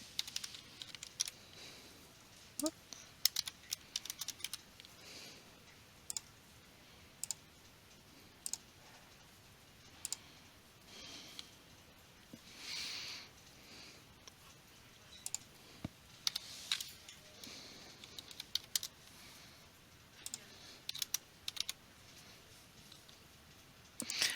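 Computer mouse clicks, sparse and irregular, some in quick pairs, alone in a quiet room with faint background hiss and occasional light keyboard-like taps.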